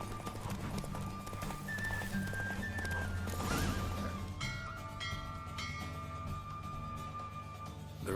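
Horse hooves clip-clop at a steady galloping rhythm during a horse race in the video game The Witcher 3, with a brief whinny, game music and ambient bell-like tones running throughout.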